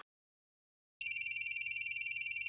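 After a second of silence, a telephone starts ringing with a rapid, high-pitched trilling bell that repeats steadily.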